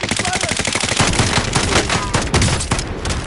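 Rapid automatic gunfire in Call of Duty Warzone, a loud, dense rattle of shots in quick succession that runs throughout with barely a pause.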